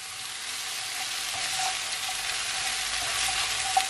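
Butter sizzles steadily in a hot pan while Jamaican steamed cabbage is being made, a continuous crackling hiss with faint pops and one sharper pop near the end.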